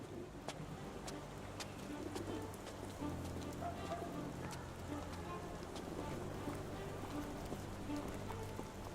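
Steady rainfall patters across a surface in the Sherlock Holmes video game, a dense wash of drops with occasional bird calls and cooing over a low background drone.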